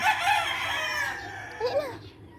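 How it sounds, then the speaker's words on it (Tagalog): A rooster crows once, loud and close, in a backyard among frizzle chicken hens. The call rises and then trails off into a short, falling final note with no talking. "there's a rooster here"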